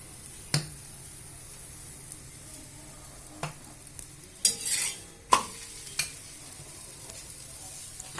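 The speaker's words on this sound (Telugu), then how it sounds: "ఆ తవ మీద కొంచెం ఆయిల్ రాసి ఆ పరోటాని వేసాము." A vegetable paratha cooks in oil on a tawa with a soft, low sizzle, broken by a few sharp spatula clanks and a brief scraping turn of the bread.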